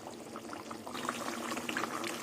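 Hilsa fish curry made with mustard and poppy seed bubbles in a pot, a soft, close simmer of gentle popping and burbling that grows slightly stronger partway through.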